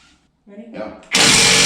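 A new Ingersoll Rand impact wrench removing a part, starting with brief mechanical noises and then breaking into a loud, continuous, close-up high-pitched whirr that runs to the end.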